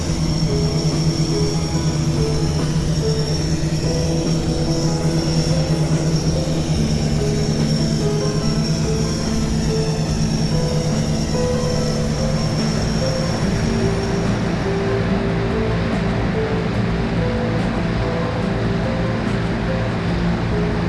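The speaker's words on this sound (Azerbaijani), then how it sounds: "Burada da motorlar yavaş-yavaş sıradan çıxmağa başlayır." Aircraft engines faltering during a crash reconstruction: a steady, loud mechanical drone with sustained engine tones and a high whine that cuts out about two-thirds through, leaving rougher, lower rumbling noise with no voices.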